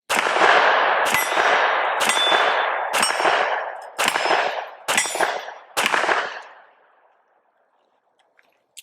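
Seven sharp shots from a compensated Springfield Echelon 9mm handgun ring out at a steady, roughly one-second pace, each loud with a short ringing tail, then the sound trails off into near silence.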